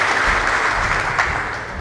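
A church congregation applauds in a steady, dense wash of clapping that holds at an even level throughout, fairly loud and with no talk above it.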